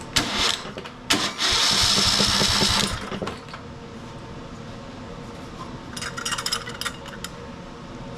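Craftsman DYT4000 riding mower engine cranking over with the head work underway, a loud rapid chugging burst of starter and compression strokes for about two seconds, a second shorter cranking run later, with mechanical clatter between.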